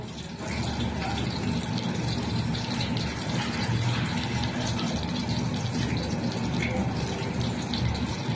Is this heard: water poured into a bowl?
yes